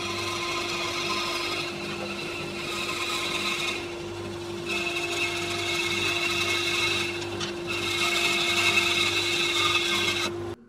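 A table saw runs with a steady high whine and cuts through wood on a crosscut sled, the pitch shifting under load during the passes, then the blade spins down at the end.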